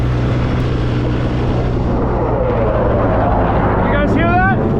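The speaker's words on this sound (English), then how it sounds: "I just got zoomed by an F-18." An F-18 fighter jet passes over a desert mountain road, its roar a sustained, loud rumble that fills the whole clip and swells toward the end against steady background noise.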